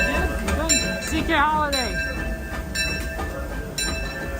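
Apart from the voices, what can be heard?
Disneyland park train passing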